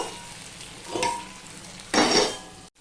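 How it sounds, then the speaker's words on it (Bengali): Pumpkin greens and ginger sautéing in a pan: two loud bursts of sizzling and scraping as the greens are stirred, with a quieter steady fry between them and no talk. "এইভাবে আমি কষিয়ে নেব"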